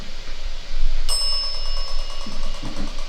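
A single small bell dings once with a bright ringing tone that lingers briefly over a steady background hum.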